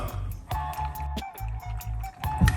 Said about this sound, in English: We're gonna put some water